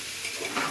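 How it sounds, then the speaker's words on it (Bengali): Salted vegetables sizzle in a pressure cooker while being stirred for a vegetable khichuri, a brief close crackle with faint scraping from the stirring. "এটা ভাজা হয়ে গেলে"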